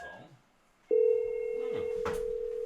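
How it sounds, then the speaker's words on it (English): An office desk phone rings after an extension is dialed, a steady loud electronic tone that starts abruptly and holds, with a voice talking briefly beforehand. "That's a phone ringing."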